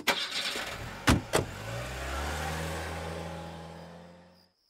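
A car shuts with a couple of sharp door thuds, then its engine starts and pulls away into a steady, fading drive, heard without any speech.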